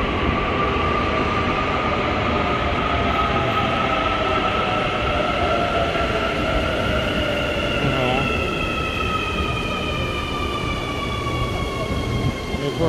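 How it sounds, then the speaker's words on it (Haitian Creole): A metro train passes through Ñuñoa station with a loud sustained rumble and rising, sliding tonal whines from the motors and wheels, heard close and steady throughout. "c'est un train ça aussi, c'est le dernier train"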